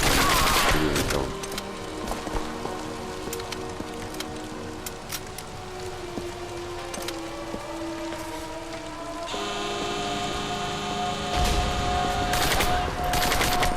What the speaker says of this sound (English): I think those are civilians I was just shooting at right there.